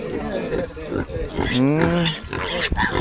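Pigs at a rural Filipino home give rough grunts and one longer drawn-out squealing call, heard close amid people talking.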